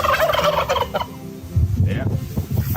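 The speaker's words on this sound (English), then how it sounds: "There's 1 turkey." Turkeys on a farm gobble loudly and close, a burst of rapid throaty warbling calls followed by more gobbles, with no talking.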